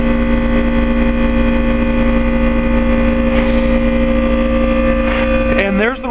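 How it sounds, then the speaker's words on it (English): A 2011 Trane XL20i 3-ton heat pump compressor runs steadily in heat mode with a loud, even mechanical hum and tonal drone, close by, with a brief shift near the end. "Hear the compressor really good."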